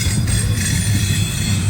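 A Norfolk Southern intermodal train passes through Wilmerding, Pennsylvania, a loud close rumble of wheels and cars roaring steadily with broad rail noise and no voices.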